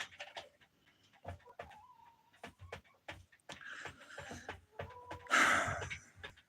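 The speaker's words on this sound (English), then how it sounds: "These chickens are in the house." Chickens clucking inside a house, with several short clucks and squawks scattered over the clip, one louder burst near the end.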